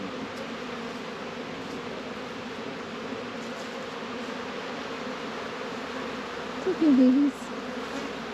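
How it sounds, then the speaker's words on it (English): Honey bees swarm and buzz steadily around an opened hive in early spring, a dense continuous drone close by, with a soft spoken voice breaking in briefly near the end. "some of the bees go back on the top and some go back in the bottom"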